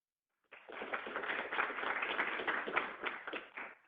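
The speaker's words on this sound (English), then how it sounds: "Give a round of applause for our next presenter" After a short silence, a neuroimaging workshop audience breaks into a round of applause for the next presenter, a dense, moderate patter of hand claps that holds for about three seconds.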